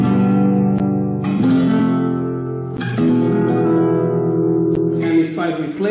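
A flamenco guitar plays the basic chords of an Andalusian cadence, with full, ringing strummed chords changing every second or so. The instrument is close and loud, and each chord sustains into the next.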